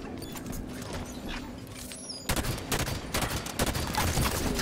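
Gunfire in the video game Halo 5: Guardians, with dense bursts of rapid shots that grow sharply louder and more continuous partway through.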